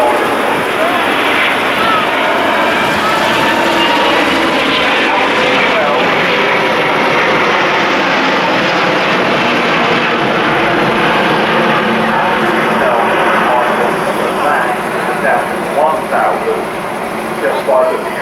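Airbus A350-1000 jet engines at the Farnborough airshow build a steady, loud broadband roar that holds throughout with little change, while a voice talks faintly beneath it.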